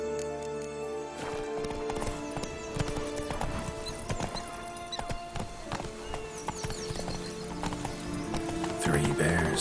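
Hooves of the horse Roach clip-clop at a steady trot in The Witcher 3: Blood and Wine, with a whinny, under continuous game music and ambience.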